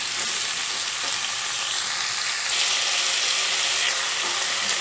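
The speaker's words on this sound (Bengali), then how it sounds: "এই 2-3 মিনিট সবজিগুলোকে একটু হাই আছে ভেজে নেব।" Vegetables for a Bengali labra curry frying in oil over high gas heat, a steady, close sizzle that holds evenly throughout with no voices.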